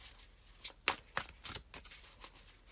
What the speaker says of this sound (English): let's just shuffle a bit for y'all on camera as well